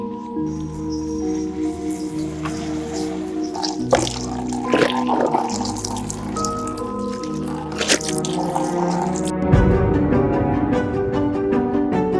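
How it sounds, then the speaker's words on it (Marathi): A stained cloth is washed under a running water tap, with the flowing water broken by wet squishing, dripping and splashing, and a louder gush of water near the end. "चल तिकडं नळ आहे तिकडं धुते"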